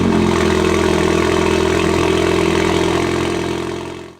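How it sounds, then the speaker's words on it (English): A turbocharged Alltrack car engine starts and runs loudly with a raw, open-exhaust rumble, holding steady before cutting off at the end. "We'll give it a quick start because it sounds fun with kind of an open exhaust."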